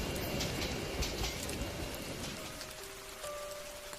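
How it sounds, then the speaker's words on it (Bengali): Heavy rain pours steadily at an empty railway station, a dense, unbroken hiss of drops on surfaces, with a faint tonal hum rising near the end. "শুধু ঝুম বৃষ্টি ঝরছে"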